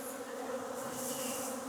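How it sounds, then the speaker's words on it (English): Aggressive honeybees buzz around an opened hive during an after-winter inspection, a dense, constant close drone throughout the short stretch, with no voices. "You gotta love how aggressive these bees are."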